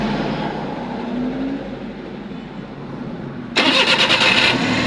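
A Suzuki DA63T truck engine cranks with a steady grinding churn for several seconds, then catches and roars louder into a running idle, heard close up with no talk.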